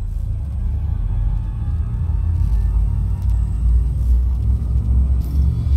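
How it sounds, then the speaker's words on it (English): Frameshift drive charging aboard a ship in Elite Dangerous, a loud, steady low rumble that swells slightly and persists throughout, with faint intermittent higher hiss bursts and no speech. "Frameshift drive charging."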